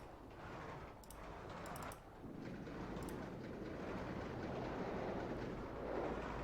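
Roller coaster train rolling along its track in a theme park video game, a steady broad rumbling roar with faint clacking and occasional light ticks throughout, no voices.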